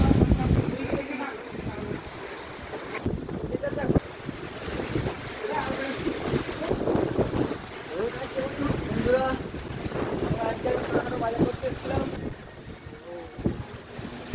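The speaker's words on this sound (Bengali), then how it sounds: "প্রচুর পরিমাণে হাওয়া বইছিল আর হাওয়ার সাথে পানি ছিটে" Strong wind gusts buffet the microphone with spraying water, a rough, uneven roar that swells and drops while people talk nearby.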